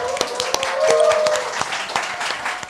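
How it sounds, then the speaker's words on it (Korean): A television talk show studio audience breaks into sustained applause, dense and steady clapping from many hands with a host's voice briefly over it. "여러분의 힘찬 박수와 함께 시작하겠습니다"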